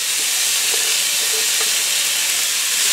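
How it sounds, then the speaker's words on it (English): Bacon strips fry in a preheated skillet over medium-high heat, cooked alongside Brussels sprouts, giving a loud, steady, close sizzle with dense crackling hiss that runs unbroken for the whole stretch and no voices. "I'm just going to add my bacon to my pan."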